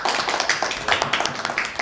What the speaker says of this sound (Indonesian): Oke, beri aplaus kepada Pak Erdan.